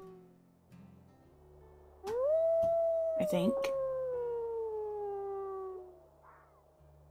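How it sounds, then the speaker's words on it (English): Game wolf from WolfQuest giving one long howl that rises and then slowly slides downward over about four seconds, loud over a quiet ambience, while a person speaks briefly. "Oh, that's our mate howling."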